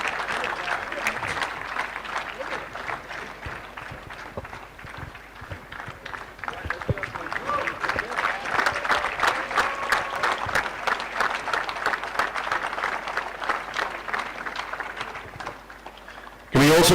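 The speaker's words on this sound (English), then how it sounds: "Big round of applause, ladies and gentlemen." An audience claps at a tennis trophy ceremony, with steady applause rising and thinning over a long stretch, mixed with scattered sharp claps and some voices underneath.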